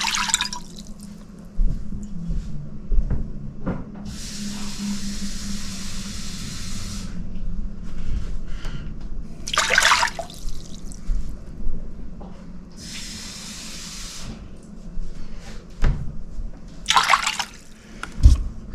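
Warm water, 600 millilitres, poured for New York-style pizza dough in a home kitchen: two separate bursts of steady hissing pour, each lasting a few seconds, set among small clinks and handling noises.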